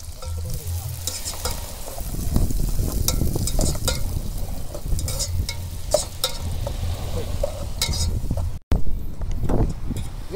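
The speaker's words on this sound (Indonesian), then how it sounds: "Kita penumisan bumbu ya." Garlic, shallots and chilies sauté in hot oil for a jengkol dish, a steady loud sizzle with stirring scrapes throughout and a brief cut near the end.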